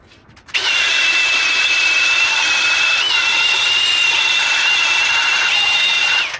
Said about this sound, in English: 3M bristle disc for cleaning that.